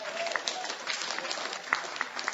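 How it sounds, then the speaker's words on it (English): Steady applause from a conference audience filling a hall, dense and even throughout with a few sharper individual claps rising above the crowd. "Why are y'all clapping?"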